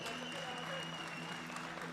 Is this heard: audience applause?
yes